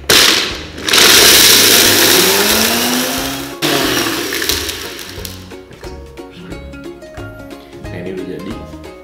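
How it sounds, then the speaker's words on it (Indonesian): A kitchen blender whirs loudly at full speed for about three and a half seconds, then cuts off abruptly, leaving quieter tonal sounds behind. "Kita blender ya."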